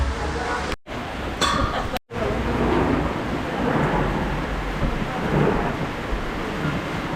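Heavy rain pours down with deep rumbling thunder at an outdoor fiesta cooking setup in Cavinti, Laguna. The downpour is steady and close, broken by two brief dropouts.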